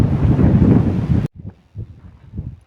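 Cool wind blows outdoors on a sunny day at the Khao Phaeng Ma wildlife conservation area in Wang Nam Khiao, Nakhon Ratchasima. Loud roaring buffets hit the microphone, then cut off abruptly to softer, intermittent gusts.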